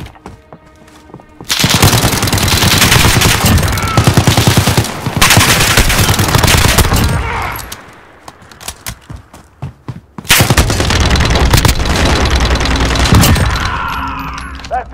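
Gunfire in the Gunfight video game comes as loud, dense bursts of rapid automatic shots in two long stretches, with a short lull between them and a quieter tail at the end.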